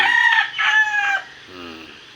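Backyard gamefowl rooster crowing once, loud and close, a long harmonic crow trailing off into a lower drawn-out tail.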